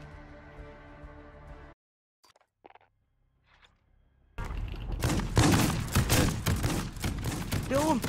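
Gunfire in Call of Duty: after a quiet stretch, loud rapid bursts of shots break out and continue to the end.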